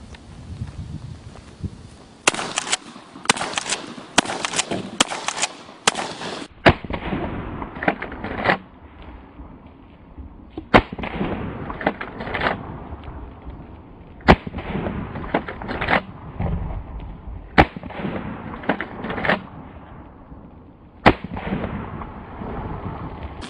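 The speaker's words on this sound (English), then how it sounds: "this is the Dragon's Breath round, and we're going to shoot our other friend over here" Dragon's Breath shotgun rounds fired on a range, a series of loud sharp blasts, several in quick succession at first, then single booming shots spaced a few seconds apart, each with a short rumbling tail.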